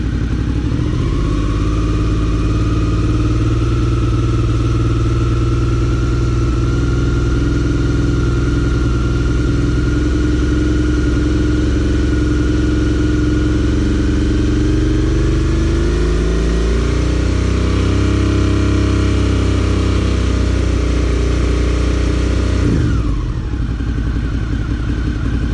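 A Suzuki V-Strom 650 motorcycle with a charging problem runs steadily close by, then its engine revs up with a rising pitch before dropping back toward idle near the end.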